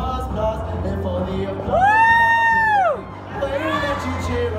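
A high school talent show audience cheers loudly, with a long rising-and-falling whoop over crowd shouting and a clapping, cheering swell afterward.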